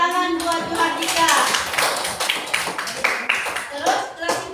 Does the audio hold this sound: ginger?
no